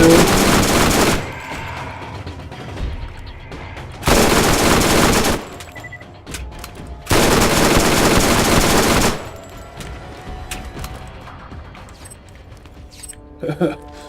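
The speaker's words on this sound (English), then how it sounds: "switch to my shotgun" Shotgun fire in Borderlands during a Trash Coast mission, heard as long, loud blasts of dense firing at three separate moments, with quieter gaps of game noise and faint clicks between them.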